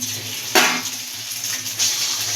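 Egg chow mein noodles frying in oil in a pan, a steady close sizzle with a sharp clatter of a utensil stirring and scraping partway through.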